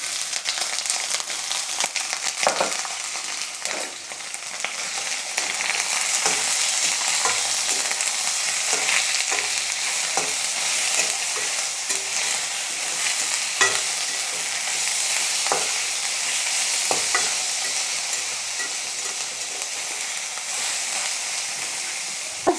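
Onions and bamboo shoots fry in a pan with a continuous hissing sizzle, broken by occasional stirring scrapes, with no voices throughout.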